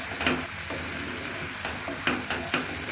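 Spice masala for a bottle gourd greens and snakehead fish dish fries in a pan with a continuous close sizzle, broken by several sharp spatula scrapes and knocks while it is stirred.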